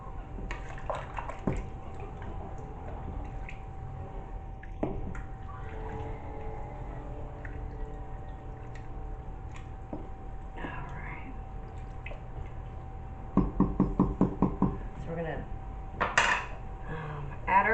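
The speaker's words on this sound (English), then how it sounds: "Give that a stir." A spoon stirs homemade dog food in a pot, giving soft scraping and a cluster of sharp metallic clinks near the end, with faint murmuring and kitchen noise underneath.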